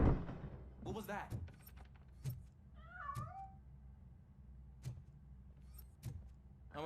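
A cat in the video game RoboCop: Rogue City gives a single warbling meow midway through, faint beneath game ambience, clicks and thumps, with bits of speech-like sound around it.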